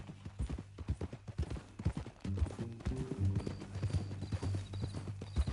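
Horse hooves clip-clop in a steady walking rhythm in a Western simulator video game, close and clear, with a low musical drone underneath and no talking.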